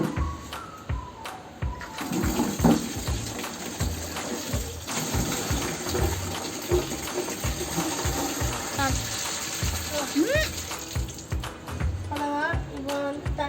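Tap water fills a container for washing a bicycle, a steady rushing gush with clanks and knocks of handling, and someone talks intermittently over it.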